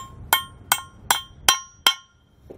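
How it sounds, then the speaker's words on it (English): Five sharp metallic hammer taps drive a bracket insert into a 2021 Ford F-250 Super Duty crossmember at a steady, even pace, close by and crisp, followed by a faint sixth tap in an otherwise quiet space. "then we can just grab our hammer and tap it in"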